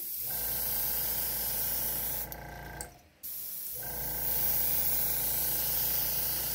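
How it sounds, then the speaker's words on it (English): Spray gun laying a yellow base coat onto a large perch swimbait: a loud, steady airbrush hiss runs almost the whole time, cutting out briefly near the middle before resuming, with no talking. "getting a base coat of yellow on here"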